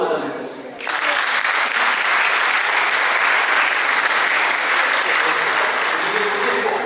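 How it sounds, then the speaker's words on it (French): After a brief moment of voices, an audience at an international conference breaks into loud, sustained applause, a dense wash of many hands clapping that continues evenly to the end. "je voudrais, s'il vous plaît, applaudir madame le président"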